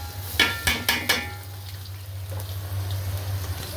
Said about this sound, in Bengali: তো বেশ আমি দিয়ে দিতেছি চালটা